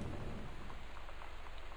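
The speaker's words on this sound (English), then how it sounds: "It's definitely thunder." Thunder and steady rain inside the video game Gone Home, a continuous soft low rumble under even rainfall, fairly faint and with no voices.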